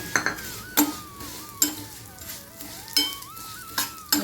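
Vermicelli tipped into a hot pan and roasted for semiya kesari, with a steady soft sizzle, metal spoon stirring and scraping, and several sharp clinks against the pan.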